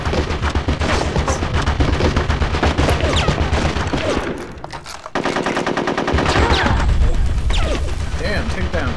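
Rapid machine-gun bursts and heavy gunfire from the Conker's Bad Fur Day video game, loud and nearly continuous, with a brief lull midway before the shooting resumes in dense volleys.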